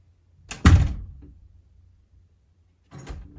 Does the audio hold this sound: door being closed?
yes